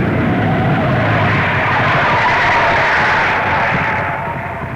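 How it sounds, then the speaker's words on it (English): A World War II era aircraft with a disabled landing hook lands on brakes alone, tires skidding in a loud, sustained harsh roar that swells and slowly fades. "This one's got to be made on brakes alone. Watch the tires spit rubber."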